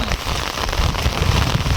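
Rain falling on farm fields, a dense steady hiss of drops across the whole clip, loud and close with low rumbling underneath and no talk.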